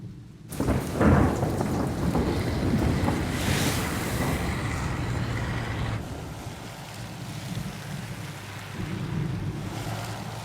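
Heavy rain pours steadily while a loud thunderclap cracks and rolls near the start, then the downpour roars on with deep rumbling underneath.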